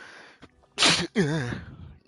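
A single sharp sneeze bursts out, followed by a brief wavering vocal sound, in an otherwise quiet room.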